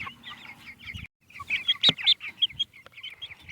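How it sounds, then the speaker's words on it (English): An Easter egger laying hen clucks and chirps repeatedly while being held, close and moderately loud in quick irregular bursts with soft handling noise between. "So this is my largest egg laying hen that we're saving for egg laying."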